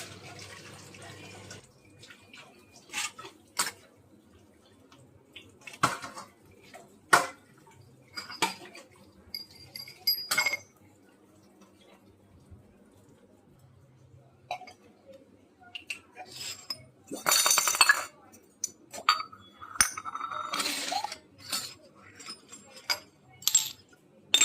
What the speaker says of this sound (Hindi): पहले उनको खंगाड़ा, फिर मांजने के लिए रखा, फिर मांज के पीताम्बरी से फिर उनको धुली सब बर्तनों को